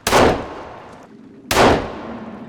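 Two loud gunshots from a firearm in the survival video game Sons of the Forest, sharp and close, spaced about a second and a half apart, each with a short decaying tail and no talk.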